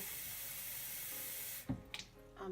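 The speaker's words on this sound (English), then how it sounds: "3/4 or a cup of water, whatever you prefer, to the bottom of your Instapot" Water runs in a steady hissing stream while a cup of water goes into the bottom of an Instant Pot, then cuts off, leaving a few small splashes and clinks.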